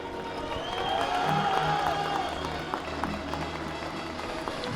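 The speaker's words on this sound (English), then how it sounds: "Rather small Spanish team cheering for her there." A small group of Spanish supporters in the stands cheers and claps for a junior women's recurve archer before a bronze-medal final, a moderate crowd murmur with a brief rise in cheering.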